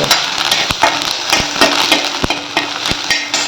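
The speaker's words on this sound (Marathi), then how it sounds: "आता कांदा आपला भाजत आलेला आहे बघा" Onion, ginger and garlic frying in a pan for a Malvani-style curry, a loud, close, continuous sizzle broken by sharp periodic clicks of a utensil against the pan.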